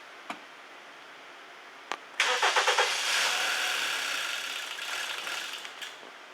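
A car engine is cranked after a couple of faint clicks, catches with a loud chugging start, runs roughly for a few seconds and then dies, with a brief tick at the end.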